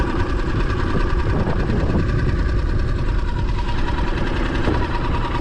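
Small Tohatsu outboard engine idling on a boat: a steady, close, mid-pitched mechanical drone with an even rhythmic knock that runs without a break.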